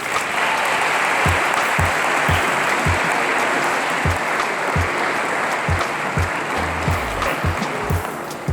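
A hall audience claps steadily and warmly as speaker Krystal Tomlinson is welcomed, a dense, sustained round of applause with no voices over it.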